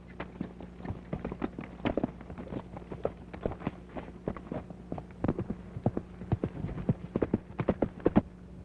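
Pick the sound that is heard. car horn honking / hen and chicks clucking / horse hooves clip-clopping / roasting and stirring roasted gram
horse hooves clip-clopping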